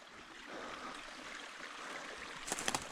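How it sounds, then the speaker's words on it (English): Pretty creek water flowing steadily in a broad, soft wash, with a few brief brighter splashes near the end; no talk. "This creek is really pretty."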